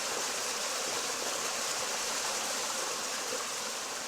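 A flowing river in a tabletop game scene, rendered as a steady, even wash of rushing water with no change in level, moderately quiet and continuous, with nothing else over it.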